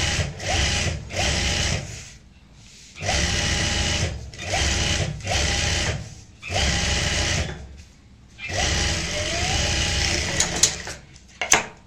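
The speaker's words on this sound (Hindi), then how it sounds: "सिलाई से अटैच कर लेते हैं।" A sewing machine stitches handbag lining in short bursts of rapid whirring, about seven runs separated by quiet pauses, close and clear with a small clatter at the end.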